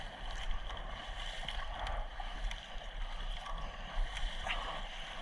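A small fishing boat pushes off from the shore out through breaking waves in rough, windy conditions, with a steady engine-and-water wash, surf hiss and gusting wind holding throughout at a moderate, even level.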